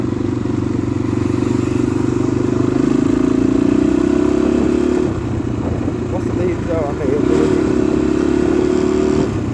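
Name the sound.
motorcycle engine running while riding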